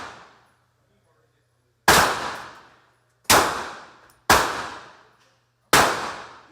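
A Glock 48 pistol fitted with a 50-round drum magazine fires four loud, sharp shots at irregular intervals, each cracking close by and decaying over a second, with a faint hum in the quiet gaps.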